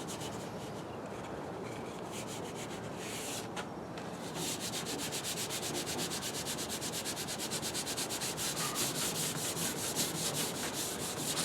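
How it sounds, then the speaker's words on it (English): Hand sanding of Ford F-150 bodywork before paint, a close, steady rasping rub that becomes a fast, even back-and-forth stroke rhythm partway through, continuing alone without talk. "you want to get every single piece sanded so that you get good paint adhesion."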